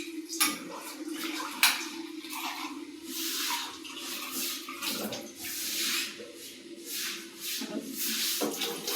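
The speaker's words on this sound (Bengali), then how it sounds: "জল দিয়ে দিলাম।" Plenty of water pours into a curry pan holding fried tempering spices and buttermilk, the stove turned off, giving a steady splashing, gurgling stream with a few drips and clinks throughout, fairly close and moderately quiet.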